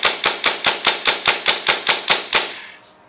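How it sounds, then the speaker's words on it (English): An M4 airsoft rifle fires a quick run of about a dozen sharp, evenly spaced shots at a fast steady rate, close and loud, then stops and the ring fades out. "Getting a couple shots in there."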